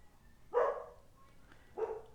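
A dog barks twice, moderately near, with short sharp woofs spaced a little over a second apart against a quiet indoor background.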